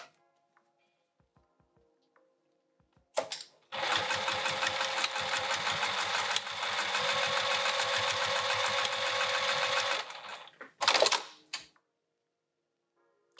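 A sewing machine stitches along a folded-down bag edge, with a few handling clicks, then about six seconds of steady, close, rapid needle chatter and a short final burst after a brief pause.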